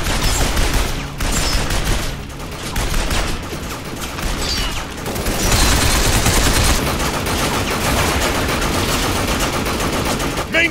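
Heavy, sustained gunfire in a Binary Domain video game battle: dense overlapping machine-gun bursts and shots, loud and continuous throughout.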